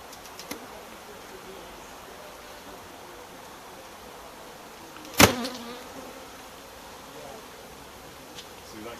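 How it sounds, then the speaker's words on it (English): Honey bees hum faintly and steadily at an open hive, a soft continuous drone broken by one sharp handling knock midway. "All right, little bees."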